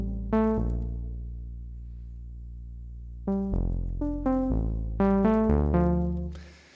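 A synth played in short melodic phrases, first clean and then with saturation added for warmth, rich harmonic notes sustaining and stepping between pitches before fading out.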